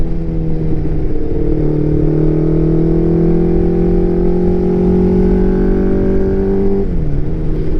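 A vintage liquid-cooled Yamaha motorcycle with five valves per cylinder, on brand-new tires, takes a corner as its engine note climbs steadily, then drops sharply with a shift or throttle change near the end. The sound is close and continuous.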